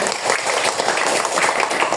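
A classroom applauding a student discussion group, a dense, even patter of many hands clapping close by throughout, with no voices over it.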